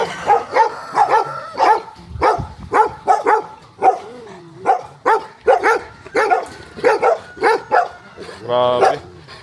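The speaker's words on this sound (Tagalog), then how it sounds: "Maraming aso dito, oh." Several dogs bark repeatedly in quick, uneven bursts, close and loud, with a yelp and whine near the end.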